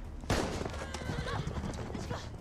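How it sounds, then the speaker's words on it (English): A CGI horse in a TV show whinnies loudly, close by, with a quick patter of hooves beneath it, over a low rumble of background noise. "The horse!"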